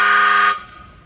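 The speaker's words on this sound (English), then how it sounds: "favorite's going to be the train horn" A recorded train horn blares through a Powercall Sirens USB6100 100-watt MP3 siren amplifier, a loud, harmonically rich blast that holds steady for about half a second, then cuts off into a faint fading tail.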